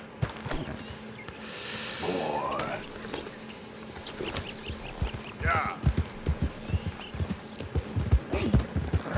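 A horse's hooves clip-clop in the Lost Ark video game, a steady patter of hoofbeats growing louder and denser toward the end, mixed with game sounds and someone talking.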